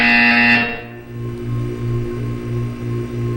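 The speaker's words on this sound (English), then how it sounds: "You will hear a buzzer." A harsh electronic buzzer from Portal 2 blares for about half a second, then cuts off, leaving a low pulsing hum in the background.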